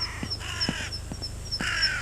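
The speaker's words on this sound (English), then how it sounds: "Those are crows." Crows caw repeatedly over paddy fields, with about five short, harsh calls spaced evenly over a low steady hum.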